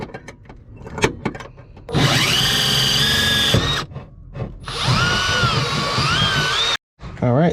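A power drill bores a hole under a car while a Wilwood brake pedal assembly is being fitted, running in two loud sustained bursts of whining, with brief pauses and handling noises between them.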